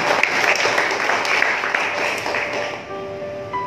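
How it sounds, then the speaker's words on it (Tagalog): A church congregation applauding steadily during a sermon, many hands clapping at once, tapering off toward the end. "Malakas na palakpak sa ating Panginoon."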